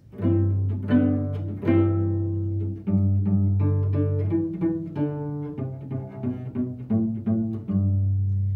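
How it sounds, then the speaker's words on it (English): Short, separated bowed notes on a cello, each with a clear attack and brief sustain, played one after another in a steady, unhurried sequence. "Some short sounds on the cello sound like this."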